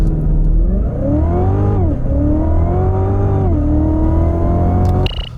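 A Cadillac CTS-V accelerates hard in third gear, its engine note rising steadily and loud with a brief dip near two seconds and again mid-clip, then cutting off sharply at the end.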